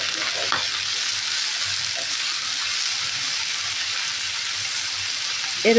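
Malabar spinach stir-fried with potato and onion in a hot pan, a steady close sizzle running throughout with faint stirring scrapes and a brief clatter at the end.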